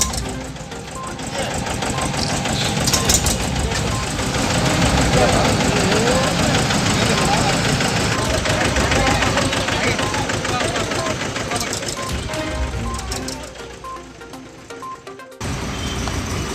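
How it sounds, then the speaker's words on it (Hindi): New municipal cleaning vehicles start up at a flag-off event in Gaya, a steady knocking engine idle running loud and close for the whole stretch, with people talking nearby, before it briefly cuts out and resumes. "गाड़ी स्टार्ट कर लीजिए।"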